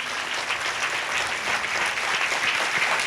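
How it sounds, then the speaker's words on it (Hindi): A church congregation breaks into dense, sustained applause, with many hands clapping together in a loud, steady wash throughout. "ताली बजाएंगे।"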